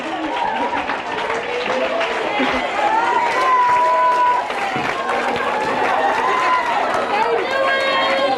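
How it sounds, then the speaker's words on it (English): A workshop audience breaks into sustained applause and crowd noise, steady and fairly loud, with voices mixed into the clapping throughout. "Give her a round of applause"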